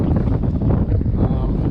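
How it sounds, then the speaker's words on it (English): Gusty wind buffets a boat at its mooring as a night cold front moves in and the wind shifts west, a steady close rumble of microphone wind noise with water around the hull, and a voice talking over it. "Here comes the night cold front. The wind has shifted west."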